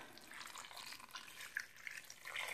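Water streams steadily into a pot of stew beef seasoned with pepper, onions and steak seasoning, a soft, close, continuous pour with small splashy bursts near the end.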